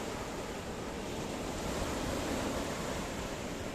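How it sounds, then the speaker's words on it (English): Ocean waves lap against the coastline of downtown Paphos, Cyprus, a steady, dense wash of surf with a slight wind rush throughout. "that is the ocean, licking and lapping the coastline of downtown Paphos"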